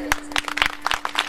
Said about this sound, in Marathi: टाळी जोरात वाजली पाहिजे.